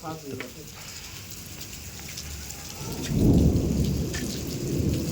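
Steady rain hisses down in a windstorm with hail while a low rumble of thunder rolls in midway, with a faint voice briefly audible at the start.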